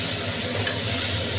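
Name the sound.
stirring frying banana flower with coconut in a pan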